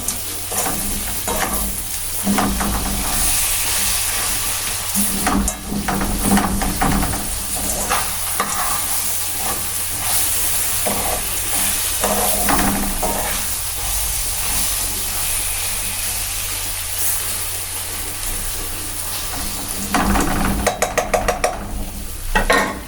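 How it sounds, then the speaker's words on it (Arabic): Vegetables with garlic sizzle and fry in ghee in a pan, a constant close hiss broken by scraping stirs and occasional clatters of the spoon against the pan, with no talking. "لما الحاجة دي تتشوح مع بعضها في السمنة بتطلع مش معجنة"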